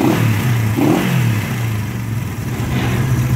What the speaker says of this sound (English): Maybe it's idling a little bit low, but she's still a little cold.